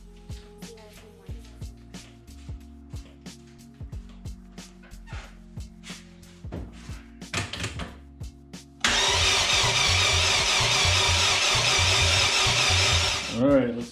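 A car fitted with a budget K-series engine swap cranks in rapid stuttering clicks and whirs, then catches and fires up into a loud, steady, raspy idle for its first start, with a voice talking over the cranking.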